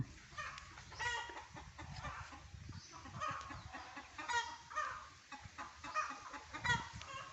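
A flock of chickens clucks repeatedly and rather faintly, with overlapping bursts of clucking and squawking throughout against a low background rumble.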